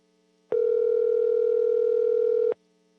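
A steady telephone dial tone heard while dialing back into a Zoom call for a public safety committee meeting, a single clean continuous tone lasting about two seconds, alone and fairly loud.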